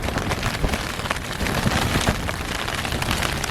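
Heavy rain from Storm Babet drums on a tent while camping, a loud, dense patter with sharp individual drop hits, close and unbroken, with no talking.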